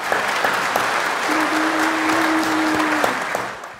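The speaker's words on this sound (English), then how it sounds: "I want to give random applause." Sustained applause from many hands rolls along continuously at a steady level, with a faint tone sitting underneath the clapping.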